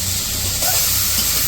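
Fish oil poured into a hot frying pan with onions and green chillies sizzles with a steady bright hiss, close and continuous, for a village greens dish.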